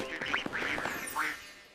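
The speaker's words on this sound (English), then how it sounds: "20 ducks parade quack, quack, quack" Ducks quack in a children's nursery rhyme song, with three or four distinct close quacks in quick succession.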